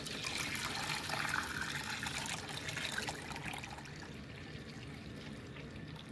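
Zinc plating solution is poured steadily into a plating container, a continuous splashing trickle that stays fairly even and close before easing off near the end.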